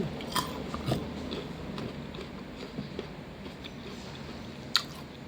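Someone bites and chews guava dipped in sweet fish sauce, soft squishy crunching close to the microphone, with a couple of sharper bites standing out over a quiet room background.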